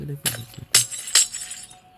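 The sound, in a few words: glass block breaking in video game Minecraft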